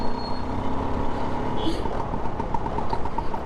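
A vintage 1983 Allwyn Pushpak 150cc two-stroke scooter with a hand gear shift runs with a steady, buzzing, auto-rickshaw-like engine drone, loud and close, throughout.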